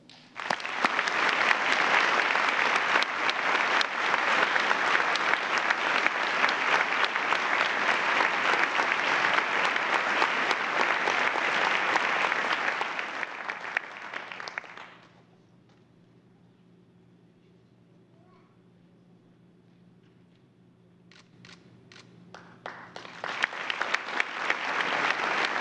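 An audience at a 2011 medical college honors and awards ceremony gives a loud, sustained round of applause that fades out. A quiet stretch follows, then clapping swells up again near the end.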